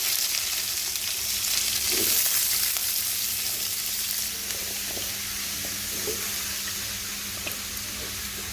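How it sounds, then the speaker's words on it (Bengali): Sweet pumpkin pieces fry with onions in oil in a pan, giving a steady broadband sizzle throughout with a few soft stirring knocks, close and alone without talk. "এখন মিষ্টি কুমড়াগুলো দিয়ে দিব"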